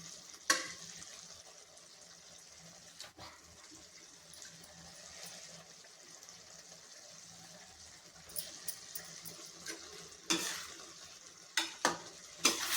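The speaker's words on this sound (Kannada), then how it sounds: "ನೋಡಿ ಹೀಗೆ ಫ್ರೈ ಮಾಡಿ ಒಂದ್ಸರಿ ಫ್ರೈ ಮಾಡಿ" Egg frying in a pan for egg rice makes a quiet, steady sizzle with soft stirring, then a run of louder spatula scrapes and knocks in the last few seconds, close by and with no voices.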